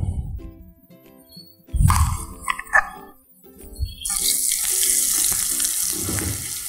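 Ground paste for an omelette curry drops into hot oil in a pan and sets off a loud, close sizzle that grows into a steady crackling hiss. Thumps and clatter from the pan come before it.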